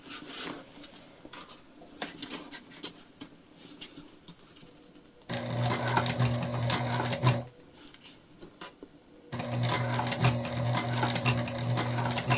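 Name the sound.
sewing machine stitching through a bulky tote bag seam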